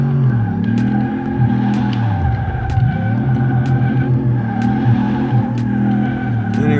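Tyres squeal and slide on a '63 Impala SS resto-mod in the Car Mechanic Simulator 2018 game as the engine drones loudly in fifth gear, a continuous skid with a brief dip in pitch partway.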